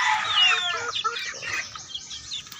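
Chicks peeping and chirping in a backyard coop after a night of rain, a dense burst of high calls at first that thins into scattered softer cheeps.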